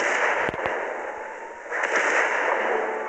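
Bomb blasts in the city-destruction video game City Smash 2, heard as a loud, sustained roaring rumble with sharp pops near the start and a second swell of explosion partway through, with no talking.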